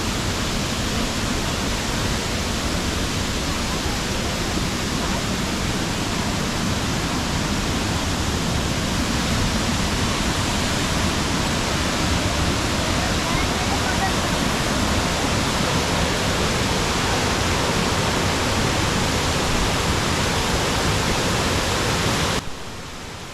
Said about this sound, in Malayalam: ഈ സൗന്ദര്യരൂപമായ ഇന്നത്തെ വെള്ളച്ചാട്ടം